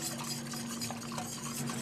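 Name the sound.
whisking milk for béchamel sauce in a pot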